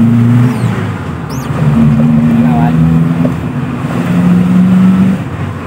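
A Toyota Kijang Super engine revs after carburetor tuning, a loud close engine drone that rises and settles in several pulls of the throttle over a few seconds.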